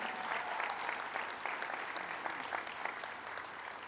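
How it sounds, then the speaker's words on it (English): A crowd applauds for New York Assembly Speaker Carl Heastie at a governor's announcement event, a sustained, full burst of clapping with scattered sharper claps and no talk over it. "Let's give him a round of applause, Speaker Carl Hastie."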